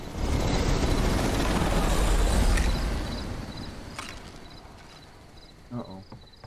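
A helicopter in the video game Daymare 1998, a heavy rumbling rotor drone that is loud at first and then fades, with a few faint clicks and knocks afterward.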